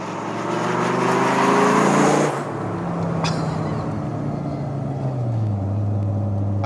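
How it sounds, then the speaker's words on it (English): Massive 8-litre V10 in a Dodge Viper GTS, loud and close, a deep throaty roar that drops sharply as the revs fall, then settles into a steady rumbling drone. "at the centre of this car always was and always will be this massive grey 8-litre V10 up front, which is probably drowning out what I'm saying"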